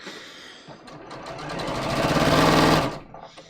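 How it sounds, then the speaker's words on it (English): A sewing machine runs a dress seam in one continuous burst of rapid stitching that speeds up and grows louder before stopping abruptly, with no talking. "So I'm just gonna stitch this all the way down."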